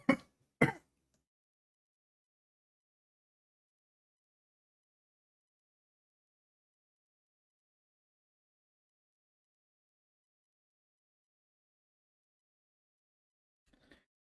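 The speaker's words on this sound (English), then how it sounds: "I had to cough hard." Two sharp throat-clearing coughs at the very start, close and loud, followed by long silence and a faint final rasp near the end.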